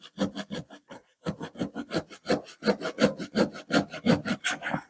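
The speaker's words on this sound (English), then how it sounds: "Now, corks are surprisingly hard to cut." A knife saws through a wine cork to cut it in two, giving a steady run of short, close rasping strokes with brief pauses between bursts.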